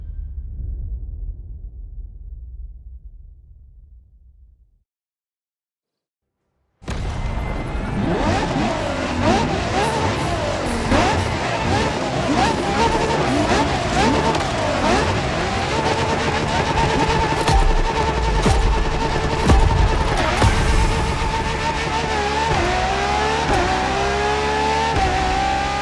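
A Ferrari supercar engine in The Crew Motorfest revs loudly and continuously, with rising and falling pitch sweeps and some tire noise, after a fading lower rumble and a couple of seconds of silence.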